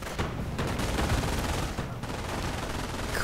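Continuous dense gunfire from an aircraft strafing run in a World War II real-time strategy game match, with rapid overlapping bursts and rumbling impacts sustained loudly throughout, with no talking.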